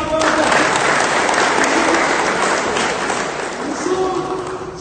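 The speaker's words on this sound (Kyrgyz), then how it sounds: "Ушуга бир кол чаап коюңуздар." An audience claps in a loud, dense wash of applause that holds steady, easing a little toward the end. A faint voice and tonal sounds sit underneath.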